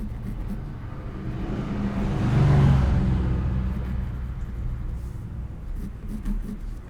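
A single car passes by outside, its low rumble swelling to a peak midway and then fading away, with faint background noise before and after.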